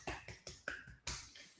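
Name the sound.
clapping for Team Cartographer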